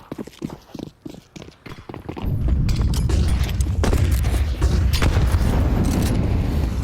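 Grenade and flashbang blasts in a Counter-Strike match: sparse clicks and footsteps give way to a heavy, sustained low rumble of explosions that fills the rest of the clip.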